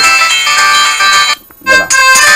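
A Clap Luxe 2 big-button flip mobile phone plays its loudest ringtone: a bright, loud electronic melody that stops briefly partway through and then resumes, close to the microphone with no voices.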